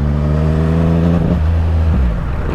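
A Yamaha MT-09 motorcycle, apparently running low on gas, revs hard and close up with a steady rising engine tone, then the pitch falls and wavers unevenly as the engine stumbles.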